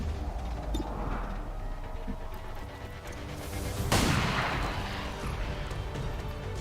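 Gunshots ring out in a video game battle: a low, rumbling ambience carries scattered distant reports, then one sharper, louder crack-like burst cuts through partway, all fairly faint.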